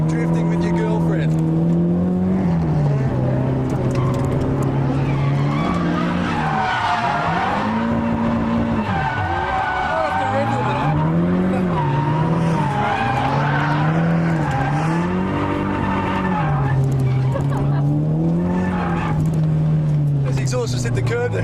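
Cars tandem drifting at Nikko Circuit, engines droning and rising and falling in pitch while tyres skid and squeal almost continuously, heard loud and close from inside a car with people talking over it.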